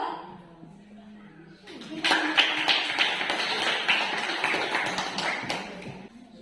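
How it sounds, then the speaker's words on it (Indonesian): Classroom audience applause for a student group, a sustained burst of clapping from many hands lasting several seconds after a short quiet lead-in. "kita berikan aplaus untuk kelompok 4 yang sudah memberikan jawaban untuk kelompok 1"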